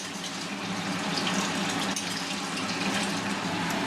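Water poured into a pot of chicken curry with meat and oil, a steady full gushing splash that runs unbroken and fairly loud throughout.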